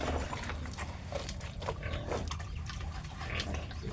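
Pigs grunting and snuffling close by, a continuous low rumble of grunts with occasional shuffling and clatter, no talking.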